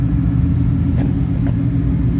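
An old Holden Calais rumbles past in an Australia Day car parade at Hastings. Its deep engine drone is loud and steady, with a couple of brief sharper knocks partway through.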